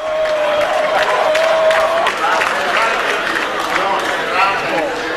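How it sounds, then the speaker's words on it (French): Dense, loud clapping from a crowd of ruling-party members celebrating Paul Biya's re-election result in Cameroon, continuous throughout with a voice talking over it. "notamment par les membres du RDPC et des personnalisantes qui ont donc applaudi à tout rompre ce résultat"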